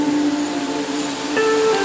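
A large waterfall in Manipur roars as a continuous broadband rush of falling water, steady and close for a couple of seconds, with faint tonal hums over it.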